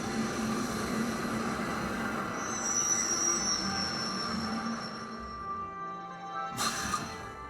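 A train ride from the video game Trails of Cold Steel plays as a steady rumbling rail drone with high metallic whine, easing off near the end before a short burst of noise.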